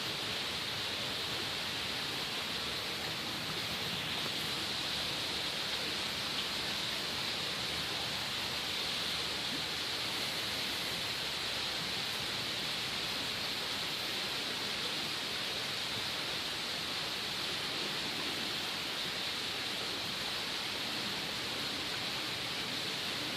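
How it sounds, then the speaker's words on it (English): A forest stream flows in a steady, soft, even rush of water that continues unchanged throughout, with no voices. "I hope you can hear the water."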